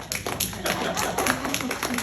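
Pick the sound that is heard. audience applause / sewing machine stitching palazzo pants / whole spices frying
audience applause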